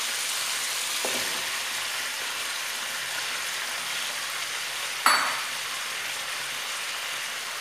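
Onion frying in a pan with tomato paste for a chtitha lham meat stew, a steady soft sizzle running throughout, with a sharp utensil tap or clink near the middle.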